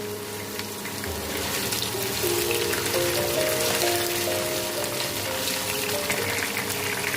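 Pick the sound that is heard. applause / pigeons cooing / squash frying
squash frying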